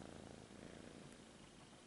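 A kitten purring steadily while being petted, a soft continuous rhythmic rumble heard up close with no talking.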